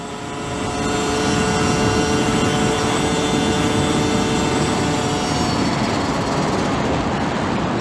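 A 2009 Aprilia RX50 50cc two-stroke motorcycle is ridden at full throttle. Its loud, steady buzzing drone swells in the first second, then holds level with heavy wind rush.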